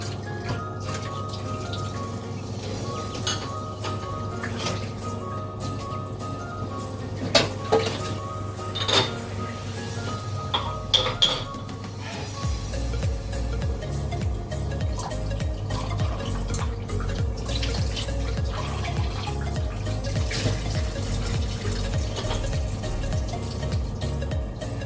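Glasses and utensils being rinsed in a kitchen sink: steady running tap water with scattered clinks and knocks of glass and metal, close and continuous throughout.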